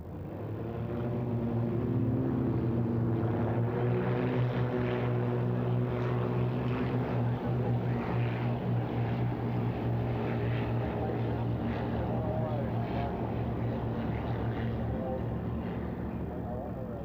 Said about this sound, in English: They fly the Extra 300, German-built, very strong aerobatic aircraft, stressed to +10 and -10 G.